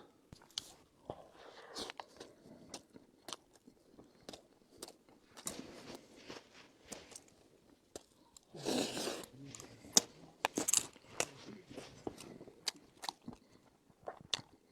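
Someone eats outdoors, biting and chewing food in a steady series of close crunches and mouth sounds, with a louder burst of rustling partway through and faint talk in the background.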